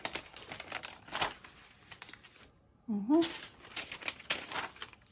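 Brown paper is crumpled and crinkled by hand at a craft table during journal binding, giving bursts of crackling rustle that pause briefly, then resume around a short spoken sound.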